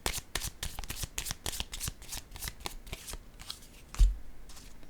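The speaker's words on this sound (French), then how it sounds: "Je vais déposer une carte ici" Playing cards handled close up, a quick run of crisp flicking riffles followed by a soft thump as a card is set down near the end.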